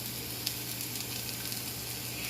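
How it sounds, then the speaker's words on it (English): Onions and garlic sauteing in a teaspoon of oil in a pan over medium heat, giving a steady close sizzle with faint bubbling crackle throughout and no talking. "by sauteing on medium fire with 1 teaspoon of oil in the pan, our onions and our garlic"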